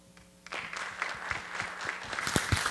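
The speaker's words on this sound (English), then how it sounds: "Please give him an applause." Applause breaks out after a near-silent start, as a small conference audience at a Debian developers' gathering claps for a speaker before a talk on electronic experimental music, building to moderately loud, steady clapping.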